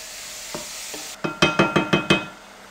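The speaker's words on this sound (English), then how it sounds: "after that we are going to add chopped mushrooms. Mix it real quick." Chopped mushrooms are stirred in a pan while sautéing for cream of mushroom soup. A soft sizzle runs under a quick series of about six rhythmic scraping strokes, close and clear, with no talk.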